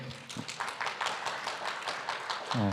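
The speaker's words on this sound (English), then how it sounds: "So please join me in a round of applause for everyone here today" A short round of applause from a gathered crowd at a Refugee Week celebration, a moderately faint patter of clapping hands lasting a few seconds, with a brief voice rising at the very end.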